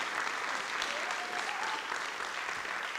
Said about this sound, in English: Let's give a big round of applause for these thriving